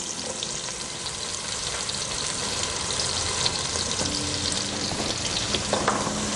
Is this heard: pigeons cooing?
no